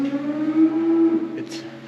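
A cow in a stall lets out one long, steady moo, close and loud, trailing off with a short breathy sound at the end.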